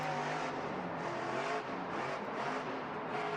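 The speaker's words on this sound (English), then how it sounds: "that truck has so much power, he is able to lift the front wheels off the ground" A monster truck engine roars at Monster Jam inside Indianapolis's RCA Dome as the driver pulls a power wheelie from a standing stop, with a steady loud drone and rising revs over crowd noise and no speech.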